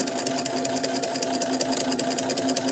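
A sewing machine stitches continuously with a steady, rapid mechanical hum and rhythmic needle clatter, close and moderately loud, with no talking.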